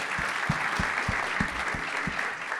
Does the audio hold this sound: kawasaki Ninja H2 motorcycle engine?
no